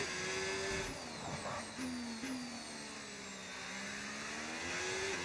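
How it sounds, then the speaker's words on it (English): A Ferrari Formula 1 car in the F1 25 racing game, its high-pitched engine whining and shifting through gears as it accelerates and lifts, loud and continuous with no talking. "First laps in the car. In the brand new red Ferrari."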